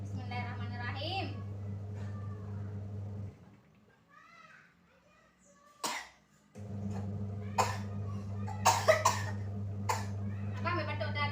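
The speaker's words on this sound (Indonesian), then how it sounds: "Nah ini abangnya lagi batuk teman-teman dari kemarin ya." A child coughs a few times at home in a village kitchen, short bursts cutting over a steady low hum, with a voice and a gap of near quiet in between.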